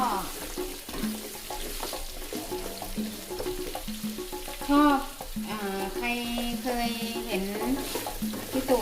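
Pumpkin and egg stir-fried in a pan: steady sizzling with scraping and stirring strokes throughout, fairly close, with faint talk in the background.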